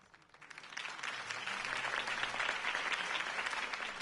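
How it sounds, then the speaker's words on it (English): Crowd applause after a campaign speech in the video game Batman: The Telltale Series, swelling up within the first second into sustained, fairly faint clapping from a large audience. "If only Mr. Wayne, my campaign's largest backer, could have heard that applause"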